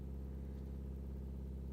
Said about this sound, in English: This is your water pump, and if I turn that on, you can hear